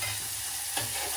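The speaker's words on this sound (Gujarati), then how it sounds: "અને હવે આપણે નાખી દઈશું મરચા, ટમેટા 2 આવે નાખી દઈએ" Chilies and tomatoes hitting hot oil in a pan, with a steady loud sizzle and frying hiss throughout and a brief flare near the end, close up with no talk.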